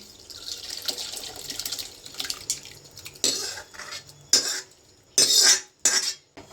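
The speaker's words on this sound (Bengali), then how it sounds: "ছানাটা আমার রেডি হয়ে গেছে দেখতে পাচ্ছ সুতির কাপড়ের উপরে ঢেলে দিচ্ছি" Freshly curdled chhana and its whey pour onto a cotton cloth, making a watery, splashing rush that grows louder in bursts toward the end, with a few light clinks of a metal vessel and no talking.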